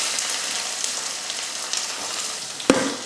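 A large onion with mustard seeds and curry leaves sautéing in hot oil, a constant close crackling sizzle with one sharp clack of a utensil near the end.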